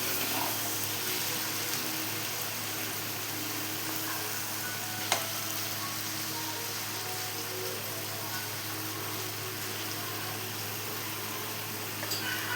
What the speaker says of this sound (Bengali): এবার আমি কড়াইয়ে তেল দিচ্ছি পনিরটা ভাজবো বলে